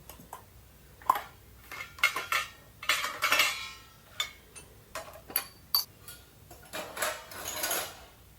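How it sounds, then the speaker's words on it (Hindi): Steel utensils and dishes clinking as they are set into a dish drying basket in a home kitchen, a run of sharp irregular clatters and taps close by, no talking. "तो बस उसके बाद अब बर्तन इस पर एडजस्ट कर देते हैं"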